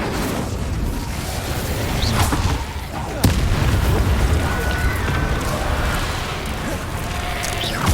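Booming spell blasts and fiery bursts from Confringo and Incendio casts in Hogwarts Legacy, a dense run of explosive impacts with one sharp crack near the middle, over continuous game rumble and a voice calling out spells.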